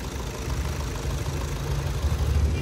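A VW Jetta engine idles right after a major service, giving a steady, even low rumble with a faint mechanical patter, close by and continuous with no voices.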